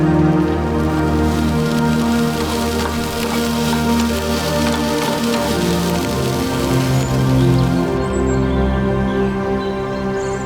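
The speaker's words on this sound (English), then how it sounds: "even if it's pouring rain outside" Steady heavy rain drumming on the roof and body of a parked Land Rover Defender, a dense continuous patter heard from inside, loud and even for the whole stretch with no voices.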